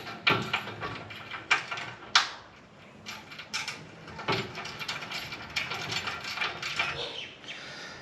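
Close metallic ratcheting and clinking as new bolts are threaded up into the chassis of a Nissan Y62 during a towbar installation, in short irregular bursts of clicks and taps.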